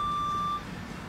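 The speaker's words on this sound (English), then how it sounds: "Sorry for the beeping in the background." A truck reversing in the background gives off a steady high electronic beep that holds for about half a second and then stops, leaving a low rumble of ambient noise.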